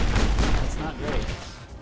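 Gunfire in a Mass Effect-style shooter on Eden Prime, a quick burst of several close, loud shots tumbling over one another in under two seconds, with faint voice sounds mixed in.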